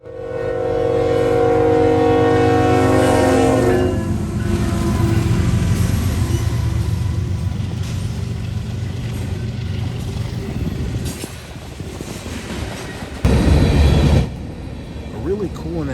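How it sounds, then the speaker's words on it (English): A long Union Pacific freight train led by an AC45CCTE locomotive rumbles past heading east, a loud, steady roar of engine and rolling wagons with a horn-like tone early on and a heavy burst near the end. "a UP AC-45 CCTE leading a long train"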